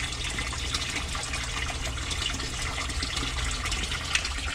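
A sump pump in a French drain setup runs and pushes out water, a steady rushing gush with a low hum underneath, constant and fairly quiet throughout.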